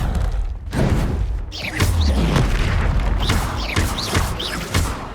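Confringo blasting spells explode in Hogwarts Legacy combat on PS5, loud booming blasts and thuds hitting in quick succession over a dense layer of battle noise and spell effects.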